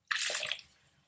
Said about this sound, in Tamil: தண்ணி 2 டம்ளர்.